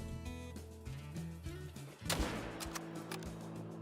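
A single sharp rifle shot cracks out midway in the hunting game Call of the Wild, fired at a melanistic alligator on the Mississippi Acres map, over a steady bed of tonal game ambience with a few lighter knocks after.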